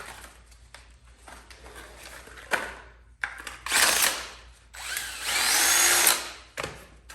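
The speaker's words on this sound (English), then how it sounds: "There's a drill for a lot of things." A power drill whirs in several short bursts while fitting foot pegs in place of pedals on a Huck Cycles Stinger bike, with clicks and handling noises between; the later runs are longer and louder, close by.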